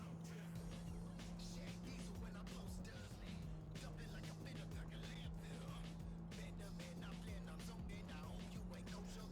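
A car drifts in the Cyberpunk video game, a steady engine drone with a sustained tone and tire noise at low level, without speech.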